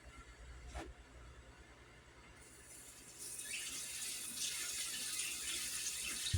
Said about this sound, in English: You rinse it so it'll stop cooking.